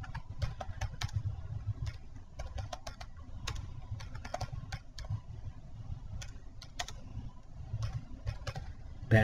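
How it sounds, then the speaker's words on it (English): Steady keystrokes on a computer keyboard entering a query code, light irregular clicks coming in quick bursts over a low background hum. "Type your code"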